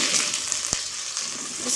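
Onions frying in hot ghee for a tinda mutton gosht curry, a dense close sizzle with a single sharp spatter pop in the middle.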